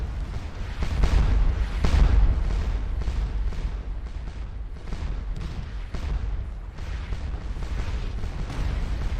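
Napoleonic-era cannon fire at the Battle of Waterloo in Scourge of War: Waterloo: a steady, rumbling barrage of distant booms rolling one after another over a constant battlefield din, with no voices.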